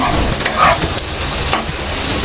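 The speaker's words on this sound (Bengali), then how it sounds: "বিশাল মজাদার আলু ভাজা ফ্রাই হয়ে গেছে" A steady, close hiss of potatoes frying in a pan for crispy aloo bhaja, with a brief stirring scrape near the start and a few faint clicks.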